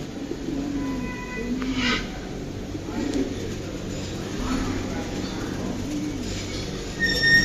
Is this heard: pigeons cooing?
yes